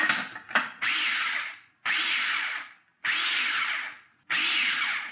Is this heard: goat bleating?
no